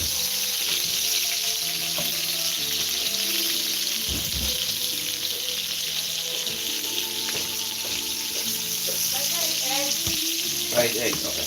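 An egg frying in a pan for breakfast gives a steady, close sizzle throughout, with a running tap and light clatter of stirring and dishes mixed in.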